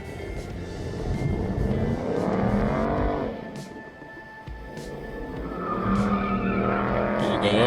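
A Ford Mustang slides at a car meet, its tires squealing in long wavering screeches over engine noise and crowd sound, fading briefly before squealing again.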